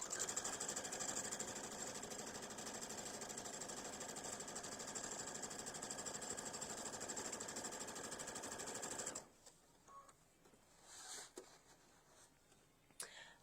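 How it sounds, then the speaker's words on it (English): A sewing machine runs steadily, top stitching along the sides of a vinyl mesh zipper pouch, a close continuous hum for about nine seconds before stopping and leaving faint handling noises. "so then we're just going to top stitch on all."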